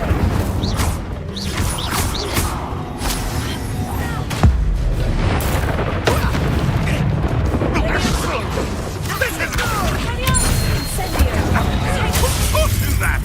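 Incendio fire spells cast during combat in the Hogwarts Legacy video game produce a dense, loud stream of crackling blasts, booms and impacts, with a voice calling out over them.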